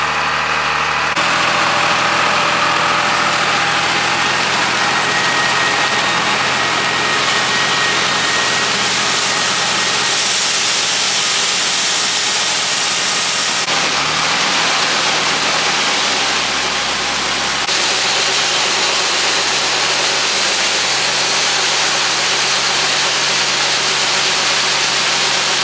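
Tractor pulling a grain cart during a corn harvest at sunset, its engine droning loud and steady throughout with a constant rumbling hum and a brief shift in tone midway, heard from inside the cab with no talk.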